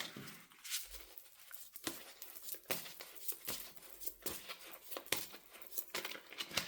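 Tarot cards from a Gods and Titans deck are shuffled by hand, giving quiet, rapid riffling and soft slapping bursts in an irregular rhythm with no talk.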